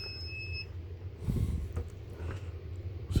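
An Amprobe AM570 digital multimeter held against an energized wire gives a steady high-pitched beep for about half a second, followed by faint handling noise and rustle.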